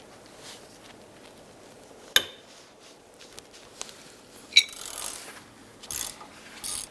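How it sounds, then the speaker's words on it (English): A ratchet with a 17mm socket and small extension loosens a wheel hub bolt on a 2008-2013 Nissan Rogue, giving a few sharp metallic cracks and short clicking ratchet strokes against a quiet garage background. "use our 17mm socket, small extension, and our ratchet. Let's go ahead and loosen this."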